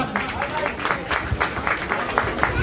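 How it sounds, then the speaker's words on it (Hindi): Audience applause at a student felicitation and prize-giving ceremony, steady scattered clapping from a crowd mixed with murmuring voices and some speech over it, moderately loud throughout. "जोरदार तालियों से इनका भी इस्तकबाल"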